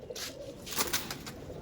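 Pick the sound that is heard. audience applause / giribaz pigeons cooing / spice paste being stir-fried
giribaz pigeons cooing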